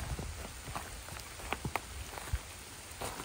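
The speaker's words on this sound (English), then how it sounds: "We're still getting rained on" Steady rain falls outdoors beside beaver-clogged culverts, a dense continuous patter with a few sharper drops splashing close by.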